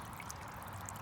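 Water trickles and flows through a homemade backyard stream channel with small pools, a soft, steady, low-level burble with no voices.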